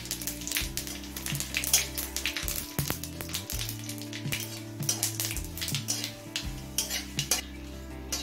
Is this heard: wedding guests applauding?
no